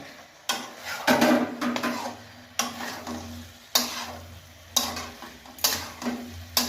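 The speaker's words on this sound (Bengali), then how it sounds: "নাড়াচাড়া করে এবার আমি ফুলকপিগুলোকে অ্যাড করলাম।" Cauliflower florets going into a pan for a creamy Bengali korma, with soft frying and scraping stirs, a few sharp utensil clanks against the pan and a low sizzle in between, close up and without talk.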